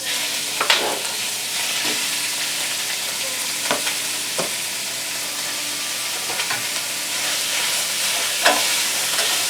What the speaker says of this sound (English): So I'm going to fry my beef first.